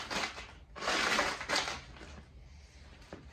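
Spilled crushed stone is brushed off dirt beside a wicking planter, giving two or three close, loud rough scraping sweeps followed by quieter rustling, with no talking.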